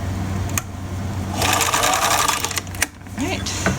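Serger sewing machine stitching a small doll shirt, a fast steady mechanical whir that runs for a couple of seconds with short starts and stops around it, close by over a low background hum.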